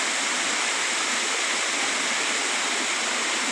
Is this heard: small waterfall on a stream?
yes